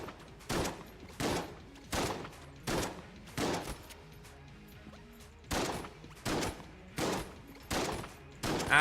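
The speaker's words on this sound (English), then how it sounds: "I mean, might as well just use a shotgun to find it." Shotgun blasts in Enter the Gungeon, about ten loud, sharp booms spaced roughly evenly with short gaps between them, each followed by a brief decaying tail.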